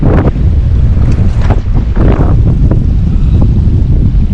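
Strong wind gusts buffet the microphone over choppy lake waves near Mukutmanipur, a loud, continuous rushing roar with slapping water and no speech.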